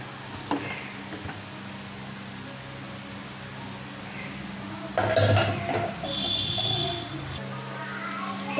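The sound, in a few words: opening pressure cooker lid after steam release, cabbage kootu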